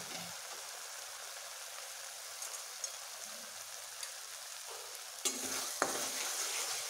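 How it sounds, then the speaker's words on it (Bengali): Spices and washed moong dal fry in a pan with a soft, continuous sizzle. A few light stirring scrapes sit under it, and the frying swells slightly louder near the end. "আমি ভালোভাবে মশলাগুলোকে কষিয়ে নেব"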